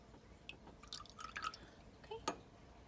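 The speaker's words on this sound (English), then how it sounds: "I'm going to pour that into my beaker." Vinegar poured into a glass beaker makes faint, close dripping and trickling, with small scattered drops and a brief splash near the end against a quiet room background.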